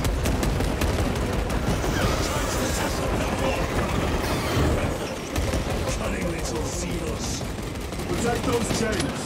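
Rapid gunfire from the video game Space Marine 2 rattles in dense, continuous bursts with a brief lull midway, loud and close, while a player speaks over the shooting.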